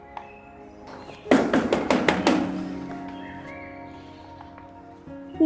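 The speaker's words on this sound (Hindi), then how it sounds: "इतनी जोरों से दरवाजा कौन बजा रहा है?" Someone knocks loudly on a door in a rapid burst of about six heavy raps, and a low resonant hum lingers afterward in a quiet room.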